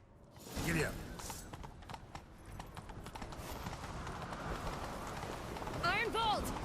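A horse gallops in The Witcher 3: Wild Hunt, with rhythmic hoofbeats drumming steadily under voices and a brief whinny. The hoofbeats grow slightly louder toward the end.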